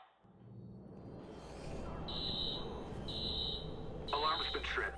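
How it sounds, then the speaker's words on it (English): An alarm trips in the video game Watch Dogs: a steady electronic buzzing tone sounds in repeated bursts over dense game background noise, with a voice speaking near the end. "Alarm has been tripped."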